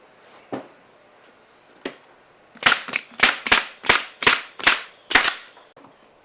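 A staple gun fires into fabric on a bar stool being re-covered, with two isolated snaps followed by a quick run of about eight sharp, loud, evenly spaced shots.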